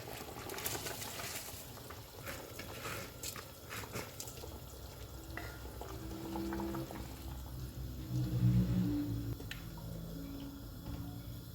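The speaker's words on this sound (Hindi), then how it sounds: "उबाल आ गया है, चावल डाल देते हैं।" Rice is added to boiling water in a pot for beef pulao, giving a quiet bubbling and pouring rush with soft scraping and splashes, close but faint.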